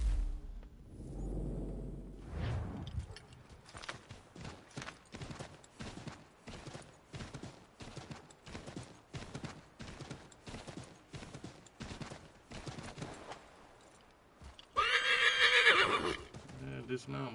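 A horse in Assassin's Creed III rears with a loud whinny, followed by a long run of steady clip-clop hoofbeats, and a second burst of neighing near the end, with voices talking over parts of it.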